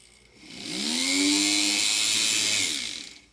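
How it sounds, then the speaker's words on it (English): A small rotary drill runs a 1/16 inch bit through a resin earring blank held in a ring clamp. The whine rises, holds steady for about two seconds and then winds down, close and alone with no voices. "Now load the blank into the ring clamp and run the 1/16 inch drill bit through the cut loop."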